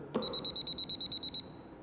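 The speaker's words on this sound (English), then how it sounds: "We have a buzzer." A Profoto D4 2400 studio flash power pack sounds its ready-tone buzzer: a clicky onset, then a rapid run of about a dozen evenly spaced high electronic pulses lasting roughly a second, close and clear in a quiet room.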